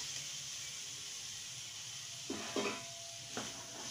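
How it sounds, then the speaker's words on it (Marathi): Sweet corn goes into a hot tempering in a pan. A steady faint sizzle runs throughout, broken by a few short clattering stirs and a louder hiss near the end. "ह्या फोडणीमध्ये आता हे स्वीट कॉर्न आपण ऍड करून घेऊया"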